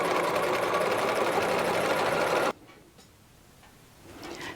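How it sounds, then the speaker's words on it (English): A sewing machine running a basting stitch on a knit sleeve cuff, a loud steady whirring buzz for a couple of seconds that stops abruptly, followed by quiet handling noises. "We're sewing it on a basting stitch"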